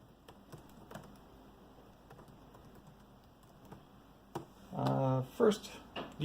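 Light, sparse key taps on an Acer Chromebook Spin 15 keyboard, soft and irregular, followed near the end by a person speaking over them.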